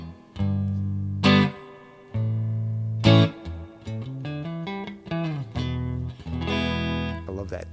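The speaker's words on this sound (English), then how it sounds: "I love that tone from the neck pickup." An electric guitar on its neck pickup plays a warm, thick, clean phrase of sustained chords and single notes, with sharp strummed accents and slides, close and loud with no talking.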